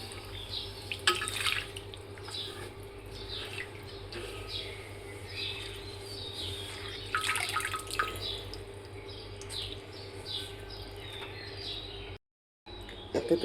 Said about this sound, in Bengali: এইভাবে চেপে চেপে পানিগুলা বের করে দেব